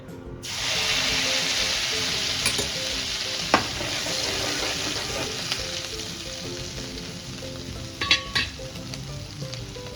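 Ginger-chili paste hits a pan and fries with a loud, steady sizzle, while a utensil stirs and scrapes with a few sharp clicks against the pan.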